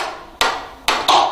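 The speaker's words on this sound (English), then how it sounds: "we can drive them out using a thin slither of wood and our mallet." A wooden mallet strikes a thin sliver of wood, driving debris out of a sawn mortise: three sharp, close knocks, the last two coming quicker together, with no talk.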